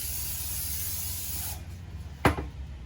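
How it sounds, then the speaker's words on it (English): A steady hissing cooking oil spray coats a pan for about a second and a half, then stops, followed by a short clunk. "First thing you want to do is you want to use some spray"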